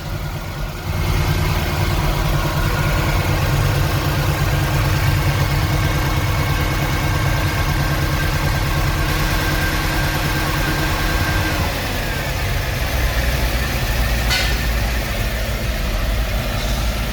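A 2008 Mercedes S63 with about 150,000 km sits idling, a steady low engine rumble that holds evenly close by, running rough, with no voices over it.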